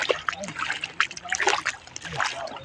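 Water splashes and trickles close by in irregular bursts, with light sloshing throughout.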